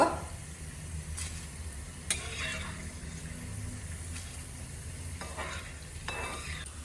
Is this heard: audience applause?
no